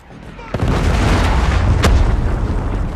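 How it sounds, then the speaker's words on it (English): A predator missile explodes in the Call of Duty Mobile multiplayer game: a sudden loud boom followed by a sustained, rumbling roar that fills the rest of the moment. "Predator missile inbound."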